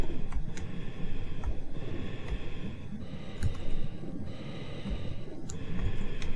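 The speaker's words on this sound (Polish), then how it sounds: "Wiem, że tu jesteście. Słyszę, jak oddychacie." Breathing of hidden enemies in Tomb Raider II's Diving Area comes as repeated snorting breaths in a regular rhythm, fairly close, with faint ticking underneath.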